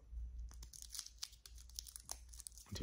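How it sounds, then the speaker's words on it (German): A Kinder Mini Friends snack bag is torn open with a close, crinkly tearing and rustling of plastic that runs for a few seconds in quiet surroundings, with no one talking. "jetzt wird die Tüte aufgemacht und ich hole schon mal einen raus"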